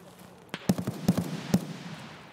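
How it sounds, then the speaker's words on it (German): Several sharp gunshot cracks in quick irregular succession in Escape from Tarkov, some distant and some closer, like a brief exchange of fire. "Oh, ich habe den Schuss abbekommen."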